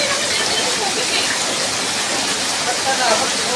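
Heavy rain from Typhoon Crising in the Philippines pours down as a dense, unbroken roar, loud and close, with no let-up through the short stretch.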